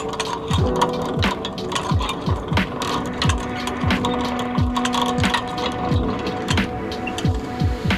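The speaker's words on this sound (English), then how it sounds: "And now we can start to crank the winch and raise the mast." A hand winch is cranked to raise a sailboat mast, giving a steady run of rhythmic ratcheting clicks, about two per second, close and clear over a low mechanical hum.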